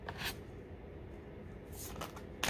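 Brief riffle of tarot cards being shuffled during a reading, a soft papery burst at the start and more near the end, with quiet room tone in between.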